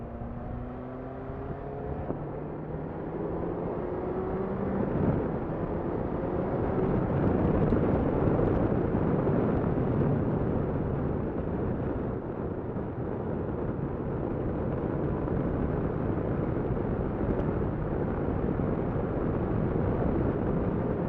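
A 2016 Kawasaki Versys 1000 LT motorcycle engine drones steadily while riding, with broadband road and wind roar and rising and falling engine tones early on, loud and continuous throughout.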